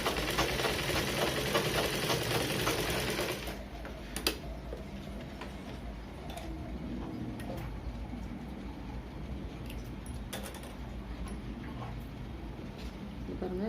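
A sewing machine stitches the front panel of a blouse, a loud, rapid, continuous run for about three and a half seconds, then stops, leaving a quieter room with faint ticking.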